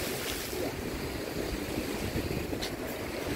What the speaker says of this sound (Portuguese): As ondas estão vindo forte.